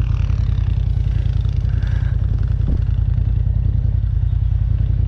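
An off-road vehicle climbs big sand dunes at Coos Bay, its engine pulling hard and loud in a steady low drone close by, with some clatter mixed in.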